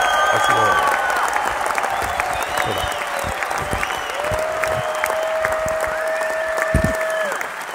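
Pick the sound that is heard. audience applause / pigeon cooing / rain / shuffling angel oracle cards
audience applause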